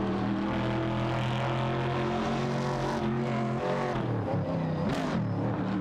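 Engines of race cars in a racing video game, among them a Pontiac Firebird, drone and rev loudly and continuously as they jostle for position, with rising and falling engine pitch as cars pass and a brief sharp swell near the end.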